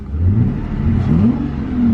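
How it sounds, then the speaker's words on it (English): A V12 Mercedes bought salvaged and totaled is revved from idle, its engine note rising and falling in deep, throaty sweeps, loud and close with no talk. "Let's do a little rev."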